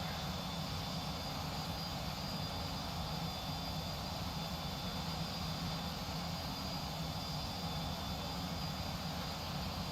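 A steady, loud airplane engine drone from the X-Plane 11 flight simulator fills the whole stretch as an even broadband roar. It runs alone, with no talk over it.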